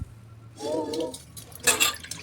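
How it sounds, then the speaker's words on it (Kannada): Plain water splashes and trickles over a freshly scrubbed utensil during rinsing, a short close burst of pouring and sloshing with brief drips. "ಬರೀ ನೀರು ಹಾಕಿರಿ ಈ ನೀರಿನಲ್ಲಿ ಕೂಡ ಏನೂ ಇಲ್ಲ ರೀ ನೀರು ಹಾಕಿ ಇದನ್ನು ನೀಟಾಗಿ ತೊಳಿರಿ"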